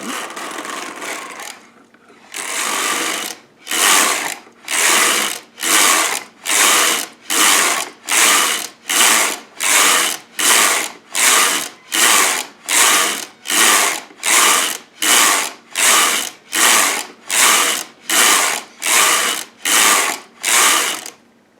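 A Sister toy knitting machine carriage is pushed back and forth across rows of yarn with hanging weights, making a steady run of loud mechanical rattling strokes, about one per second, with no voices.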